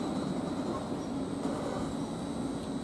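A Class 745 Standard Express electric train, unit 745-102, stands at Manningtree station with a continuous low rumble and a faint high whine, steady and moderately close, and no one speaking.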